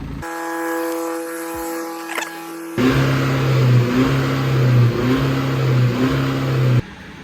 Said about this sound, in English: Let's give this thing a few revs. This dirty diesel.